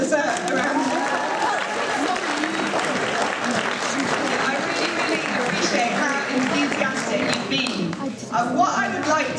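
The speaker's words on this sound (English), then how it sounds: "you, the audience, you have been brilliant all evening, so you also deserve a round of applause" An evening audience at a public speaking event in London gives a lively, full round of applause, dense clapping with crowd noise and voices mixed in, fading slightly near the end.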